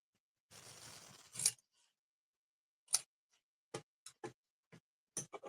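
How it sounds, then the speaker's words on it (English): Scissors snipping card stock while making greeting cards at a craft table: one longer cutting stroke, then a series of short, sharp, close snips spaced irregularly, with no talking. "Use my scissors."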